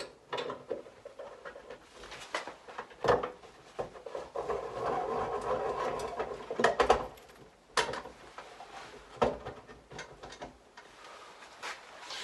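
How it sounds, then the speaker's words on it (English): A screw is backed out of a Broan 170-B wall heater, with soft intermittent ratcheting clicks and scraping metal handling sounds, close and fairly quiet with no talk. "There's a screw right up here in the corner that you take out."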